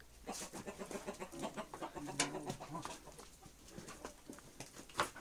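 Chickens clucking and squawking nearby in a quick, irregular series of calls, with an occasional louder sharp squawk, fairly quiet overall.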